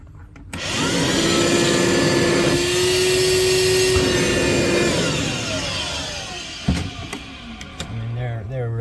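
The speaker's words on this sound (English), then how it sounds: "I'm gonna get my vacuum and try to clean out." A household vacuum cleaner runs with a loud steady whine while sucking up small brass shavings from inside an irrigation valve, then shuts down and winds off, followed by clunks and a voice.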